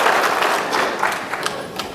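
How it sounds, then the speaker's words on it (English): Audience applause greeting Mike Pompeo before his speech, a brief burst of clapping that swells and dips slightly over two seconds. "it always concerns me when people applaud that much before I speak"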